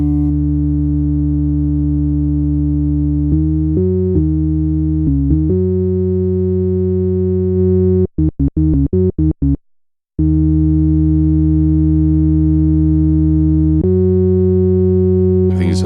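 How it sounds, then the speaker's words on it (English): Init patch of the BLEASS Megalit wavetable synth with three oscillators, no effects: plain, pure sustained tones stepping between pitches, a burst of rapid choppy notes, a brief silence, then long steady held notes, loud and alone. "The 3 oscillators playing"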